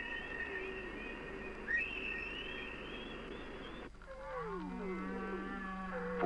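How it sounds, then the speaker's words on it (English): Humpback whale song recorded underwater off the Virgin Islands: long sustained tonal moans, rising whistle-like calls and sweeping downward glides, clear and fairly loud over a steady hiss. "expert analysis of the humpback whale's phonations, Captain Cousteau has brought the tapes"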